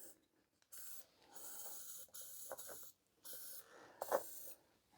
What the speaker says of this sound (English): We'll get a bit of spray in there and see if it'll free up.